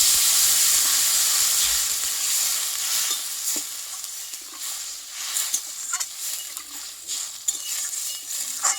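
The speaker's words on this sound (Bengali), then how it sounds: "এবার জলটা আমি দিয়ে দেবো দেখো পরিমাণ মতো জলটা কিনে দিয়ে দেবো" Fried potato and cauliflower sizzle loudly in a pan as water is poured in, a dense hiss that gradually fades into softer bubbling with scattered pops and stirring clicks.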